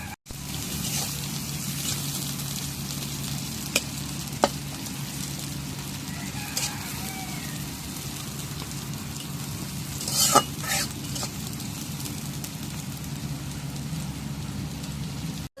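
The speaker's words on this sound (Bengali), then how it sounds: "এখন কড়াইটা গরম হয়েছে, এখন তেল দিই।" Oil heating in a hot wok, a soft continuous sizzle with occasional sharp pops and clicks of utensils, fairly faint and steady with no talking.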